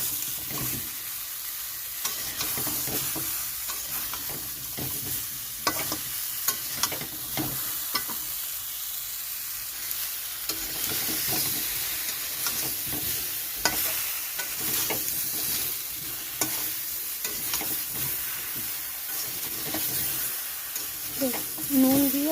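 Mango pieces frying with salt in a pan for a homemade sweet mango pickle, a continuous soft sizzle broken by repeated stirring scrapes, close and moderately quiet, with a brief voice near the end.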